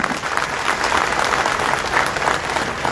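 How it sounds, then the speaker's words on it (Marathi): An audience at a Marathi public gathering applauds loudly and steadily for about three seconds, a dense wash of clapping with no break. "त्याच्याबद्दल सगळ्यांनी जोरात एकदा टाळ्या वाजवा"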